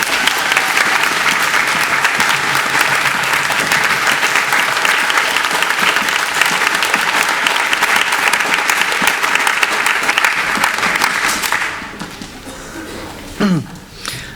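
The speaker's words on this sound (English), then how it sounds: "Let's give them a round of applause." Sustained audience applause at a spring orchestra concert, honoring string orchestra students, steady dense clapping for about eleven seconds before it fades out, followed by a brief squeaky sound.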